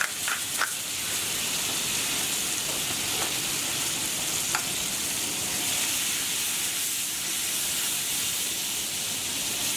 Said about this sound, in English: There's enough heat in that pan to cook the broccolini.